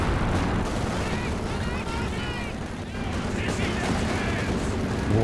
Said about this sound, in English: we've got some concentration barrage dropped in the vicinity as well